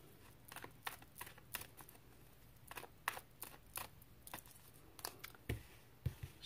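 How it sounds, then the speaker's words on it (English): Cards are shuffled in quick, crisp riffles and snaps, irregular bursts close by and fairly quiet, with no talking. "Shuffling helps clear my head."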